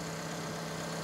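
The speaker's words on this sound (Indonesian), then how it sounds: "Dan ini suara mesinnya" A 2011 Toyota Vios with the 1NZ-FE 1500cc engine idles in a steady, even hum with a low drone, smooth and continuous with no other sounds.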